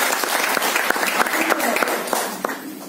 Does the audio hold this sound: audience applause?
yes